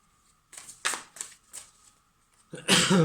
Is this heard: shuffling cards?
yes